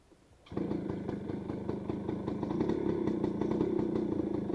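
A Yamaha two-stroke 80 cc motorcycle engine catches and settles into a steady, buzzy idle nearby, running continuously after a brief quiet start.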